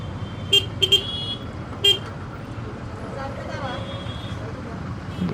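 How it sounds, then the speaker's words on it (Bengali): Several short car horn toots ring out over a low, steady rumble of idling engines in a congested morning traffic jam on a road in Bangladesh, heard from a motorcycle, with a voice speaking briefly. "সকাল সকাল বিশাল জ্যাম।"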